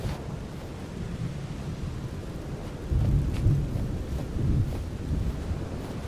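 Thunderstorm in the Aphelion video game, an equatorial storm: a steady roar of rain and wind with low rumbling thunder that swells louder about halfway through, with no voices.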